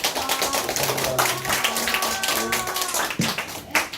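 Audience applause after a lecture at a career education centre, a dense patter of clapping hands throughout with a voice talking over it.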